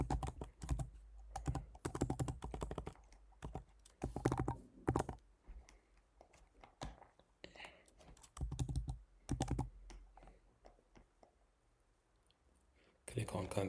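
Someone types an email address on a computer keyboard into an online store checkout form: close, crisp key clicks in quick bursts separated by short pauses.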